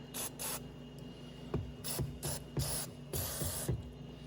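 Aerosol lubricant sprays onto the metal door hinges of a 2011 Honda Odyssey in a series of short hissing bursts, about seven of them, close and fairly loud, with light clicks and handling noises between.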